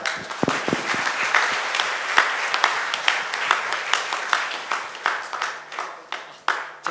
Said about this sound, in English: everybody shakes their hands, claps their hands together